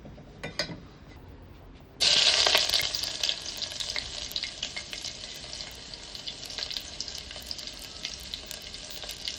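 Spices such as cumin, mustard seeds, fenugreek and chillies hit hot oil for pepper rasam, erupting into a loud, bright sizzle that settles into steady crackling frying with scattered pops and stirring scrapes.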